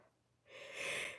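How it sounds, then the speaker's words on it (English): A single breathy yawn starts quietly, then swells into a long, airy exhale that peaks near the end. It is close to the microphone with no talking. "Had a little yawn, I'm sorry."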